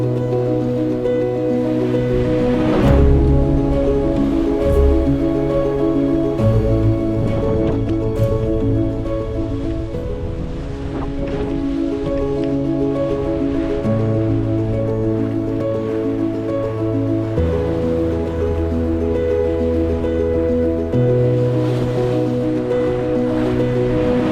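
A cutter-rigged sailboat creams through ocean waves about 50 degrees off the true wind, with a steady, loud rush of water along the hull and a constant tonal hum underneath.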